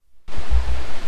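Steady, full roar of the Jalatarangini waterfall at Maredumilli, starting abruptly and then holding as a dense, continuous rush of falling water close by, with no voices over it.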